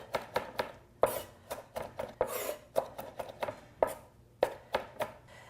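A knife chops through a big bunch of fresh cilantro on a cutting board, a dozen or so sharp, close taps in an uneven quick rhythm, with nothing else heard.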